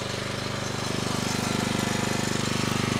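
A Briggs & Stratton engine runs on a 15-ton log splitter, a close, steady rapid chugging putter at constant revs with a slight rise in loudness.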